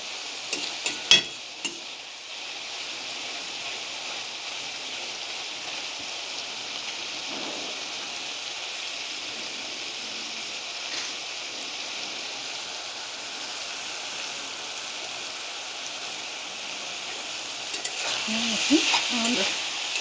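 Water lilies and shrimp cooking in a pan, giving a soft steady sizzle and hiss with a few faint stirring scrapes and clinks, quiet and continuous with no voices.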